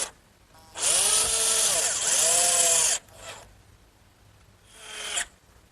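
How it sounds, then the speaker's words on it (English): A power drill bores pilot holes in cedar wood, one long whining burst followed by two short ones, close and fairly loud with quiet gaps between. "I want to make sure I take the precaution of pre-drilling so I won't split this nice cedar"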